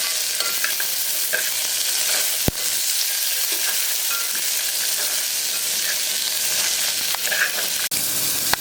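Small shallots sautéing in hot oil for mutton kuzhambu give a loud, continuous close-up sizzle, with occasional sharp knocks of a ladle stirring the pan and no voices.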